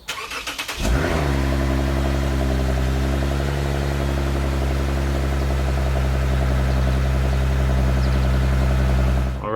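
A Lexus IS 350 engine cranks with a quick starter whir and catches with a loud surge, then settles into a deep, steady idle that stays close and unbroken to the end.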